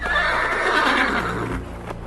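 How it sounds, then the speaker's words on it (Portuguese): A horse gives a loud, close neigh lasting over a second, followed by a couple of soft hoof knocks, heard alone. "um cavalo preto."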